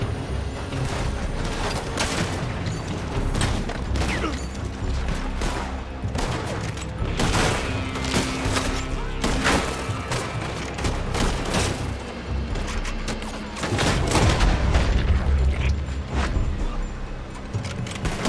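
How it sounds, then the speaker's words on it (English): Rapid gunfire fills a Red Dead Redemption II shootout, a dense, loud barrage of overlapping shots and booms with a heavier burst of blasts near the end, continuous throughout. "They're shooting from that building."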